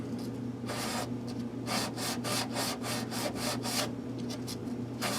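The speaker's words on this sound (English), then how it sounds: "I'm going to take some 1500 grit micro mesh." Guitar frets on an Ovation Celebrity being polished with 1500 grit micro mesh, a steady series of short scratchy rubbing strokes in a quick back-and-forth rhythm, close and fairly loud over a constant low hum.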